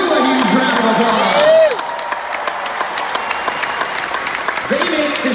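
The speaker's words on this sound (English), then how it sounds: "So give every member of our crew a huge round of applause." Loud concert crowd applause with cheers and whoops in a large arena during a holiday rock show in Newark, New Jersey, clapping steady throughout with shouting voices mixed in.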